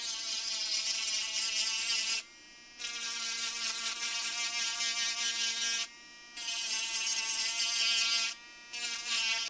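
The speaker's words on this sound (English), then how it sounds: "I like to sand it off just to make it a nice," A small power sander or rotary tool smooths the trimmed edges of a plastic Nintendo DS Lite shell, buzzing in three steady bursts separated by brief pauses, close and fairly quiet.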